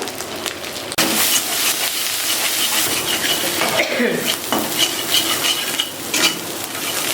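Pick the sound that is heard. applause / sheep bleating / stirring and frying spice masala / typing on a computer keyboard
stirring and frying spice masala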